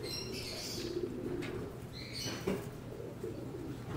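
Racing pigeons at a loft during training preparation, with soft cooing and brief wing flaps over a steady low hum, fairly faint.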